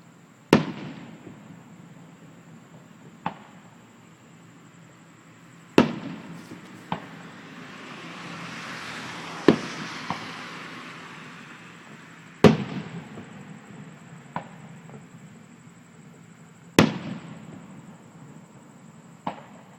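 Early Fourth of July fireworks at a country club, sharp booms and pops spaced every few seconds with crackling trails between them, heard from a distance outdoors.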